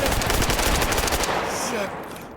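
Automatic gunfire in the video game S.T.A.L.K.E.R. GAMMA: a loud, rapid burst of close shots in quick succession that stops after about a second, leaving a fading echo tail.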